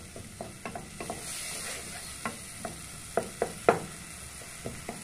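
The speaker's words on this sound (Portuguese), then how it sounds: "Agora deixa eu refogar um pouquinho." Food sautéing in a pan for a soy soup, a soft steady sizzle under a series of scattered clinks and scrapes as it is stirred, close by.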